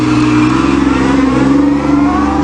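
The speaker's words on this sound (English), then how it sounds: "Back up and take off in first gear," A Pontiac Fiero V6 pulls away in first gear, its engine holding a steady, loud mid-pitched drone close by, with a brief dip in level before it resumes.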